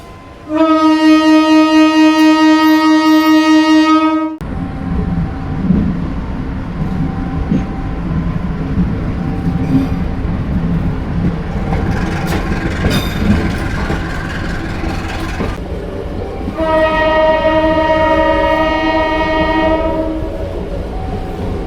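The Putri Deli train, hauled by two BB 203 locomotives in double traction, arrives at Lidah Tanah station: a loud, sustained horn blast, then a heavy rolling rumble, and a second long horn call near the end.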